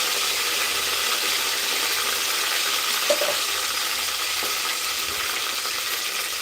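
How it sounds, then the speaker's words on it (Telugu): Spices, green chilies, curry leaves and onions frying in hot oil, a loud, dense, continuous sizzle heard up close, with a couple of faint knocks from a utensil and no talk. "ఆయిల్ హీట్ అయింది నేను మసాలా ఐటమ్స్ అన్నీ వేస్తున్నాను అలాగే పచ్చిమిర్చి కరివేపాకు ఉల్లిపాయలు"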